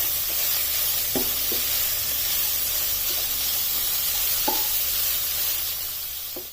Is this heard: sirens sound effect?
no